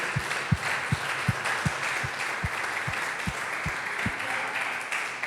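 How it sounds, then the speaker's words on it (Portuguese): A church congregation applauds during a Portuguese-language sermon, a steady wash of clapping with soft, regular low thumps running through it. "Você pode aplaudir o Senhor por isso?"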